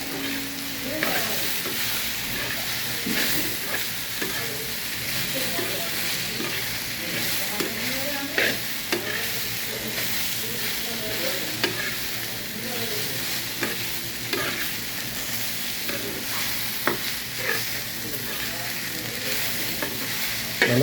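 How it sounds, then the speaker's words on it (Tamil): Okra stir-fry being stirred in a pan with a splash of sambar, a spoon scraping and clinking repeatedly over a continuous low sizzle, with no talking. "நல்லா கிண்டி விடுங்க."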